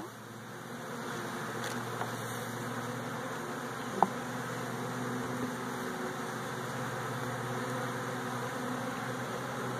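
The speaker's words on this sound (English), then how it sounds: "See how these bees are not locked in? They're not acting like a hive. They're just freaking out." Honey bees buzz steadily around a package being installed into a hive, a continuous faint droning hum with a few sharp clicks, heard outdoors without speech.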